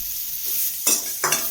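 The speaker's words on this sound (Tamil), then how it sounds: "அடுப்பை மீடியம் ஃப்ளேமில் வச்சுக்கணும் கூட நம்ம அவிச்சு வச்ச பிளாக்கொட்டையை சேர்த்துக்கலாம்" Boiled jackfruit seeds are stirred into masala in a pan over a medium flame for kola urundai: two brisk scraping stir strokes over a soft, steady sizzle.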